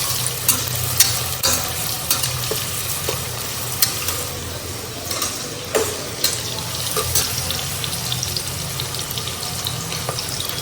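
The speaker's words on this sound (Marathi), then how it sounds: "कांदा थोडासा पिंक होईपर्यंत आपण परतून घेऊ" Onion and cashews are sautéed in a pan for veg pulao. A continuous close sizzle carries scattered spatula clicks and scrapes, with a watery, tap-like wash blended in and no speech.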